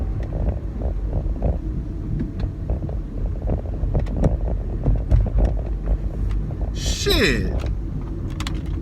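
A car rolls slowly through an empty parking garage, a low, steady engine rumble with faint wind noise, while someone talks inside the car.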